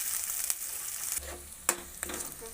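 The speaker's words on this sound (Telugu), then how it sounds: "నేనైతే ఇప్పుడు కొద్దిగా అల్లం పేస్ట్ వేస్తున్నాను" Ginger paste sizzles in hot oil while chicken curry fries, a steady crackling hiss broken by a few sharp pops and scrapes of stirring.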